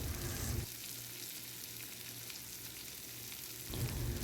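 Prawns fry in hot oil for a prawn roast, giving a steady, continuous sizzle that is loudest at the start and end with a quieter, even stretch between, and no one talks.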